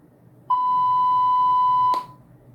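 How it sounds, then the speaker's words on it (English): A single steady electronic beep holds one clear tone for about a second and a half, then cuts off with a small click, alone against faint background hiss. "How we are pronouncing the word beep, and how is the sound in real?"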